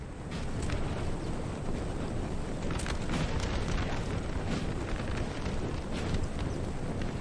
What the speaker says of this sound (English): Oh, the artillery's firing. Canistering this Austrian line.